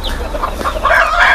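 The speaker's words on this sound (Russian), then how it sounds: "Посмотрите, какой петушок у нас есть." A curly-feathered rooster from a cross of Chinese silkie and meat and laying breeds gives a few close, loud clucks and throaty calls in quick succession, with no talk over them.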